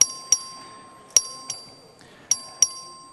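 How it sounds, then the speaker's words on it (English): A clerk's bell rung for a record vote in a state legislative chamber: three pairs of bright, ringing strikes, each pair quickly followed by a second, with a steady tone sustained beneath and faint room murmur between. "The clerk will ring the bell."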